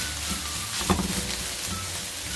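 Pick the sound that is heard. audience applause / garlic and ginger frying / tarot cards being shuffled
garlic and ginger frying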